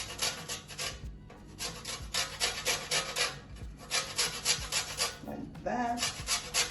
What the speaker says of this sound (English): So I'm just gonna use some lime zest into this.